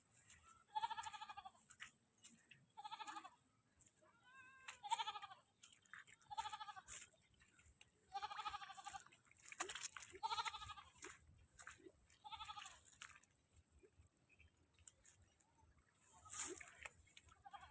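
Goats bleat repeatedly in a garden, a series of close, loud cries in short bursts across the whole stretch, with a little faint background noise between calls.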